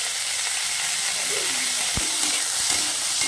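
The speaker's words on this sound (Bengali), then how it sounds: "তো সবজিগুলো এবার আমি একটু ভেজে নেব" Vegetables fry in a hot pan with salt for a vegetable dal, a loud, steady sizzle and hiss throughout with a faint clink or two of stirring, close and with no voices.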